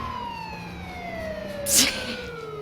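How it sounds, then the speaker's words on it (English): An emergency siren wails steadily with a slowly falling pitch, moderately loud and continuous, with a brief burst of noise near the end and faint voices in the background. "can we, like, turn off the siren?"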